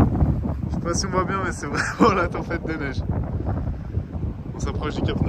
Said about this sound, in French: c'est vraiment la tempête de neige